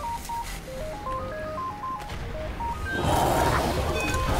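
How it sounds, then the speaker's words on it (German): A telephone in the video game Wolfenstein: The New Order gives off a quick melodic run of electronic beeps that step up and down in pitch. A louder burst of noisy game sound follows, with no speech. "Ja, das ist hier mal unser Telefon"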